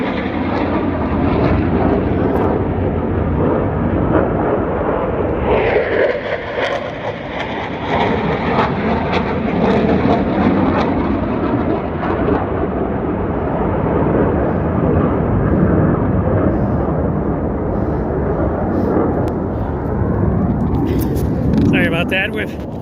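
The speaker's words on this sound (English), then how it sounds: "F-15s flying overhead" F-15 fighter jets flying low overhead on the Pacific Crest Trail, a loud sustained roar that swells and shifts over about twenty seconds, with a voice talking under it.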